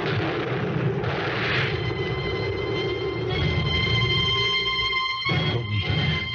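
Gunfire in an old-time radio drama after a sentry is ordered to shoot a fleeing man: a loud, dense burst of blasts and rumbling noise fills the scene, with a sharp crack near the end.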